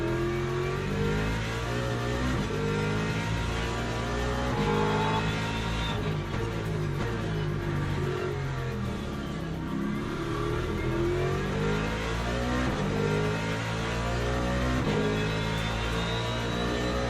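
BMW race car in the Le Mans Ultimate racing game: a loud, continuous engine revs up and down through gear changes, with other cars' engines close by throughout and no talking.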